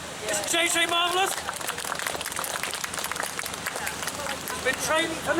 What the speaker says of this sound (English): Give a round of applause, boys and girls.